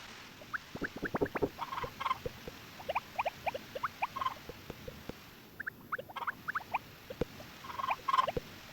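Chickens in the video game Harvest Moon: Back to Nature cluck in quick, repeated bursts with soft patter underneath, fairly quiet and continuous, with no voices.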